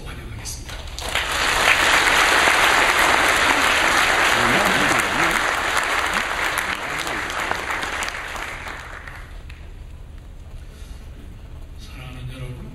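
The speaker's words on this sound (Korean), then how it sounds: "목사님을 보내신 하나님께 감사드리는 마음으로 우리 박수로 환영하겠습니다" A church congregation applauds to welcome a pastor to the pulpit: a sustained wash of many hands clapping that swells quickly, holds for several seconds, then gradually thins and fades.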